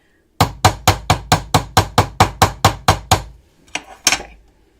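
A chasing hammer strikes a metal piece in a fast, steady run of about a dozen sharp, ringing blows close up, then pauses before two softer taps, with no talking.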